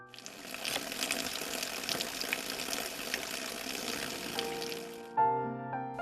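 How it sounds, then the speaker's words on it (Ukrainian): Spring water from limestone hills pours into stone troughs in a steady, close gushing flow, which stops abruptly near the end and gives way to a brief tonal music sting. "Вода стікає в камінні жолоби."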